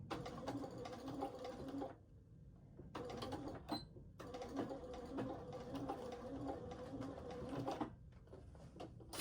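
A sewing machine stitches a waist pack in several bursts of rapid mechanical clatter with short pauses between runs, close and clear with no talking.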